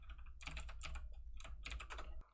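Fast, steady keystrokes on a computer keyboard as a command is typed into a Linux terminal session, in close, clear bursts of clicking that stop abruptly at the end.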